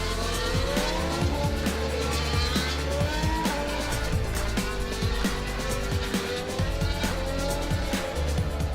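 A Formula 1 car running during a shakedown at Silverstone, its engine a loud sustained roar with shifting pitch sweeps and tire noise.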